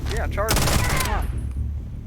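A short, loud burst of rapid gunfire from a Starfield firefight rattles off in quick succession and then drops away, with a voice briefly audible around it.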